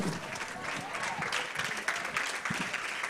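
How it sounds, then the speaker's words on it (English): Sustained applause from an audience giving a standing ovation at a World Children's Day media symposium, dense steady clapping filling the room throughout. "shall we please give him a round of applause with a standing ovation"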